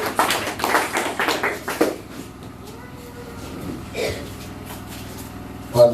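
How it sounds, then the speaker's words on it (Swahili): A church congregation at a grand opening service claps together in a loud, rhythmic burst for about two seconds, then quickly fades to near quiet with a few scattered sounds afterward. "Tupatie Yesu makofi makubwa"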